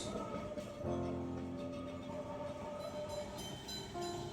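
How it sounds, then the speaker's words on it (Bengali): A Kolkata tram approaches near the Esplanade tram café grounds, giving a steady, continuous rail rumble with faint tonal hum throughout, moderately distant and without speech. "দূর থেকে দেখতে পেলাম ট্রাম আসছে"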